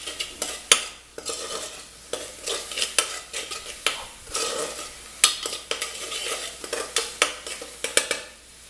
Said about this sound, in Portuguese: vou deixar dar só uma fritadinha aqui mesmo nesse alho aqui e na cebola